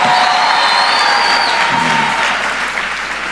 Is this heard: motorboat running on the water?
no